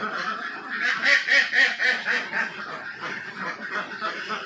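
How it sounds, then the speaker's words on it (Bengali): Domestic ducks quacking close by in a rural yard, a run of loud, rhythmic quacks that swell and fade across the whole stretch with no talk over them. "এই দেখছ কত সুন্দর হাঁস"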